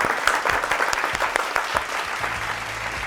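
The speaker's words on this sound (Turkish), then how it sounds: "Alkışlar" An audience claps in a brisk, continuous round of applause, with sharp individual claps standing out near the start before the sound eases slightly.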